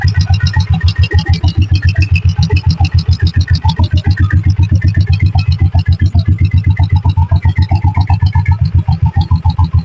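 A self-start 1991 5 hp diesel Bullet motorcycle engine idles close by, its loud, steady thumping beat repeating evenly throughout with a mechanical clatter on top.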